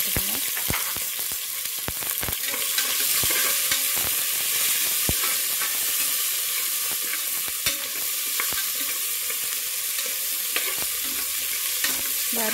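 Small onions sauté in a pan with a steady, close sizzle, broken by frequent sharp spatula clicks and scrapes as they are stirred.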